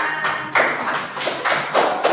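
Children clap together in a grade 4 primary school classroom, a steady round of applause with rhythmic louder surges close by.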